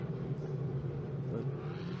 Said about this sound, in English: there is the Ferrari being dragged back by the